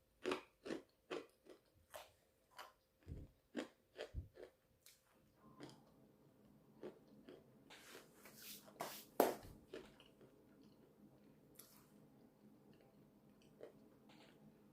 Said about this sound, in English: When I first started biting into this, I was wondering, okay, what is this?